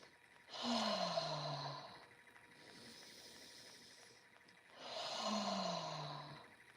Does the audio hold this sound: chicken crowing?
no